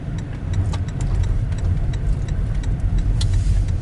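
A car driving along a dirt road gives a steady low engine and tire rumble throughout, with faint light ticks and rattles over it.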